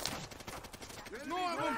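Automatic machine gun fire in Call of Duty: World at War, a quick burst of dense gunshots that blends into harsh, bright game noise, with no voices over it.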